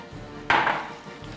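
Green peas tipped into a pot of oil-coated rice for rizi bizi, a single bright clattering rush that fades over about half a second, close and loud against a quiet background.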